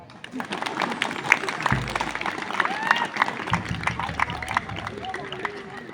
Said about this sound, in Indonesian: Dan tepuk tangan dulu.